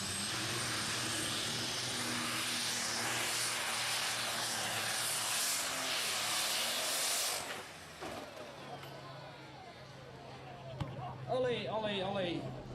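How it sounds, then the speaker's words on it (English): A truck fitted with a triple-turbo DAF engine roars at full power during a truck pull, with loud, dense mechanical noise. The engine noise cuts out abruptly midway, leaving quieter rumbling, and then a voice shouts excitedly. "The Rocket Science truck was equipped with a 3-turbo DAF engine."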